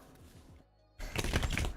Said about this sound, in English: So let's do a shuffle-uffle. Shuffle-uffle.